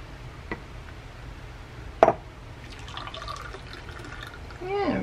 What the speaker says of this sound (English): I'm just going to pour it into these vintage cups I have here.